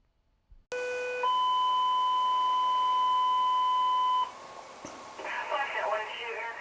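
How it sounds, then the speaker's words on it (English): Radio dispatch tones alert a medical helicopter crew: a short rising sequence of beeps leads into one long, loud steady tone lasting about three seconds, then a crackle of radio static follows. "these tones on the radio have signaled go time for Bill Jepson."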